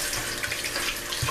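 Water runs steadily from a tap in a kitchen while raw chicken is prepared for buttermilk fried chicken, a close, continuous splashing with no talking.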